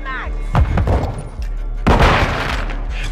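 A stun grenade goes off during a multiplayer match of the video game Call of Duty: Modern Warfare II, a loud booming blast amid other gunfire and explosion thuds, with voices calling out over the combat.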